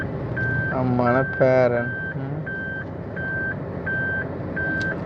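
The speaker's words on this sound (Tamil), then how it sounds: "இப்போ என்ன ரிவர்ஸ் அடிக்க வச்சுட்டேன்ப்பா" A reversing truck sounds a steady, evenly spaced series of loud electronic beeps, with someone talking over the start of them.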